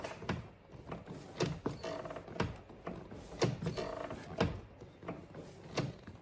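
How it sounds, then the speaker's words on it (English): A Lexus RX350 parking brake pedal is pressed and released several times, giving a run of soft mechanical clunks and ratcheting clicks in an irregular rhythm, close and fairly quiet. "Now operate the parking brake pedal several times."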